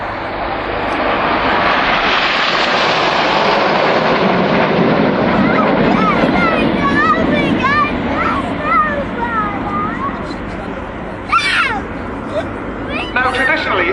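Eurofighter Typhoon jets of the Red Arrows display at RAF Waddington roaring past in a 3.5 G turn with smoke on, a loud sustained broadband jet rumble that swells and fades under steady commentary.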